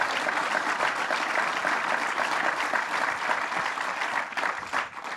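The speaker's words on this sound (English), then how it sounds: "Let's give her a round of applause." Applause from a crowd at a public event welcoming a dignitary, a steady dense clapping that stays fairly level for about five seconds and thins slightly at the end.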